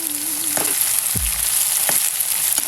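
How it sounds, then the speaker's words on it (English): Pasta for a shrimp salad cooks in a hot pan, giving a steady close sizzle with a few soft stirring knocks and scrapes, no talking. "Cooking up some pasta salad."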